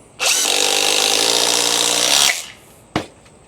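A Ridgid impact driver sinks a 4.5 inch GRK screw in one loud, close burst of about two seconds of rapid hammering whine, followed by a brief sharp knock.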